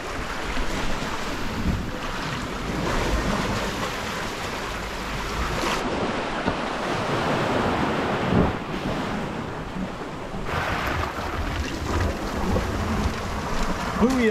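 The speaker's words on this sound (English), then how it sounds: "really high tide, really big waves" Big, rough ocean waves and surf crash onto a beach at very high tide, a loud continuous roar with surging swells and heavy wind buffeting the microphone throughout.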